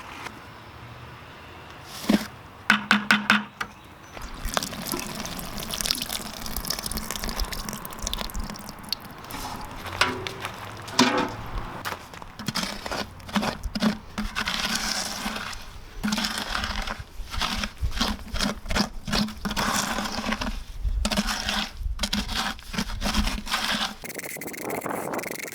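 Refractory cement is stirred with water into a slurry, giving irregular close-up scraping, squishing and wet crunching strokes that vary in loudness throughout.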